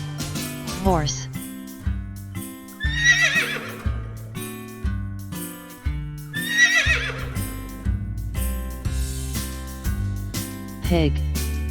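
A horse whinnies in several shrill, wavering neighs, one near the start, two louder ones in the middle and a last one at the end, over steady background music.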